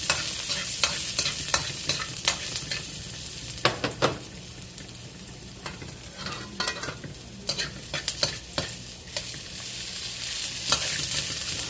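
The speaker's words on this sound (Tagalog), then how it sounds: "Mantika, ilagay na natin to. Igisa rin natin." Aromatics sautéing in hot cooking oil in a home kitchen pan, with a steady close sizzle broken by repeated sharp scraping and clacking strokes of a stirring utensil, heard alone with no talk.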